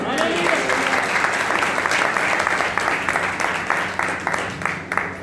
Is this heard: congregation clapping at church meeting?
yes